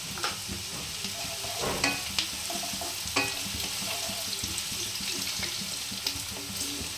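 Curry leaves and chopped green chilli sizzling in hot oil for Bengali-style poha, a steady close frying hiss with scattered stirring clicks and scrapes throughout.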